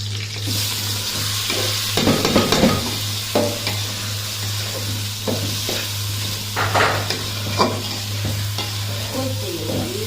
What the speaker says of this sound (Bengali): ফোড়ন দিয়ে আমি পোলাও চাল দিয়ে দিব